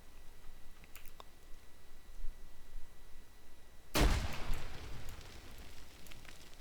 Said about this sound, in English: Let's toss a grenade.